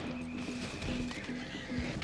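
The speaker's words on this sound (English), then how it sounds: "No, don't shoot my horse." A horse neighs in Red Dead Redemption 2 amid a busy shootout scene, its whinny repeating in several loud, close bursts over constant background game noise.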